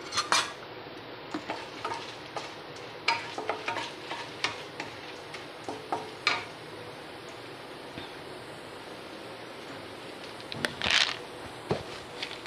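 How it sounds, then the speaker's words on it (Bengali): Chana dal stirred in a couple of spoons of hot white oil, a spoon or spatula tapping and scraping the pan in repeated clinks over a soft frying hiss, close up without speech. "এরপরে এর মধ্যে দিয়ে দেব চানা ডাল, মানে ছোলার ডাল"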